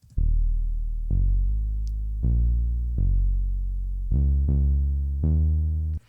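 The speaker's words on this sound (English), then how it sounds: "it's just a sawtooth with an envelope low pass filter on it, and it sounds like this." A synth bass with a buzzy sawtooth tone through an envelope low-pass filter plays a short line of separate notes, each with a bright attack that quickly mellows, some gliding in pitch.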